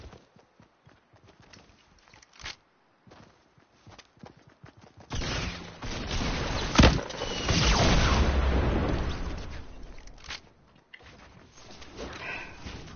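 Grenade launcher blasts in Fortnite, a burst of booming explosions and rumbling debris in the middle of the stretch, bracketed by quieter clattering footsteps and movement before and after.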